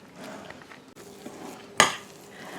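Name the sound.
mixing blackberry crumble mixture in a bowl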